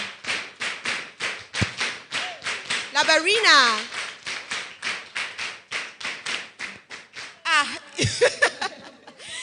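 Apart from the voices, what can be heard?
rhythmic group clap chant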